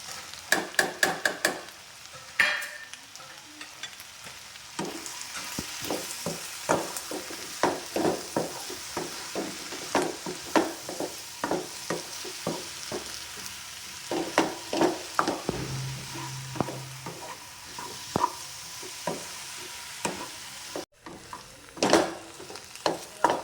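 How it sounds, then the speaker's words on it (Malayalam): Sambar with drumstick pieces and coriander, chilli and turmeric powders is stirred in a pot, giving repeated scraping and knocking strokes in an uneven rhythm over a low simmering hiss, close by. "നന്നായിട്ടൊന്ന് ഇളക്കി കൊടുക്കാം കേട്ടോ."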